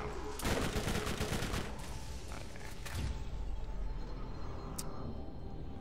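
Rapid bursts of gunfire from the video game Borderlands, dense and loud through the first half, then thinning to scattered shots and a lingering rumble.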